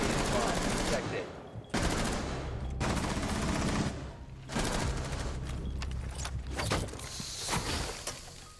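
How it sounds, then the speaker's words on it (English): Rapid bursts of automatic gunfire in the Rainbow Six Siege video game, loud and close, broken by brief pauses and angle switches, with mechanical clicks between volleys. "every few shots, I'll like shoot a few bullets, then switch angles"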